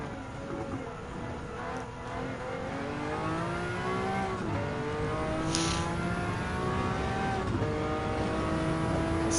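Mazda 787B race car in Gran Turismo 7 screams steadily through repeated gear changes, rising and falling engine pitch filling the whole stretch at constant loudness with a brief tire squeal, no talking.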